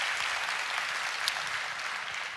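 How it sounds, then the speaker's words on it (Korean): A church congregation applauding steadily during a worship service after a praise music performance, a dense wash of clapping hands that stays even and sustained throughout. "우리 M 클래식 우리 박수 한번."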